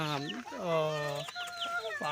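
A crossbred hen, bred from an Araku tribal-region chicken and an ordinary hen, clucks close by in a few drawn-out, rising and falling calls across about two seconds.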